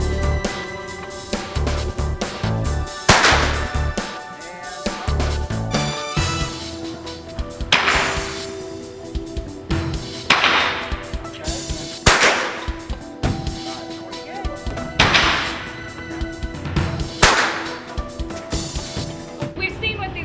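Youth rifle fired by a child at an outdoor range: sharp gunshot cracks roughly every two to three seconds, about seven shots, loud and close over a steady background.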